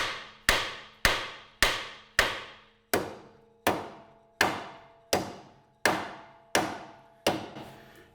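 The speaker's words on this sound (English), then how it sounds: "So what I'm going to do is just hit here on the actual stub axle" A hammer strikes the stub axle of a Land Rover Freelander eleven times in an evenly spaced rhythm. Each blow is a loud, close metallic clang that rings out and decays before the next one lands.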